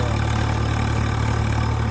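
A tractor engine idles steadily at a constant 1600 rpm, a close, loud low-pitched throb with a regular mechanical pulse and no talking.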